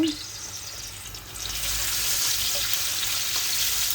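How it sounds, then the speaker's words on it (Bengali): Hot oil tempering dal, a broad steady sizzle that jumps louder after the first second and then holds as a continuous close hiss. "এখন আমি ডালটি বাগাল দিব"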